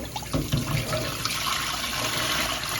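Tap water runs steadily into a pot while peas soup with beef and chicken foot is being cooked, a continuous close splashing rush that stays even throughout with no talk over it.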